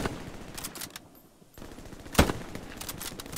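Bursts of rapid automatic machine-gun fire in the video game Hell Let Loose crackle in quick rhythmic volleys, with a brief lull midway before a sharp louder shot and more firing.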